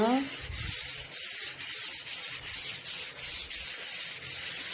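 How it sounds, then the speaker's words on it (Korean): Rubber-backed 220-grit sandpaper is rubbed back and forth over putty-filled patches on an old wooden vanity dresser. The strokes make a close, rhythmic scratchy swish, about two per second, repeating evenly. "220방 고무 사포로 표면을 매끈하게 사포해 줄게요"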